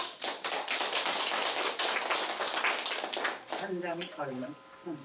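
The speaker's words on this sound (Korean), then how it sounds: "박수로 맞이해주세요." Audience applause at a public debate on no-senior zones, a dense burst of clapping from a crowd that fills most of the clip before tapering off as a voice begins speaking near the end.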